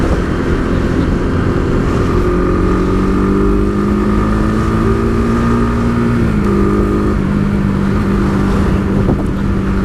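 A Honda CBR150 single-cylinder sport motorcycle engine runs loud and close, its steady droning note rising and falling slightly as the throttle is blipped, with no talk over it.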